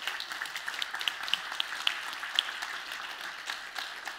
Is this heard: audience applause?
yes